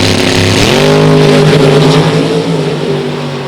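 A 67 Camaro and a Mustang launch at a drag race. Engines scream loudly and rise sharply in pitch as the cars leave the line, then hold a high, sustained roar.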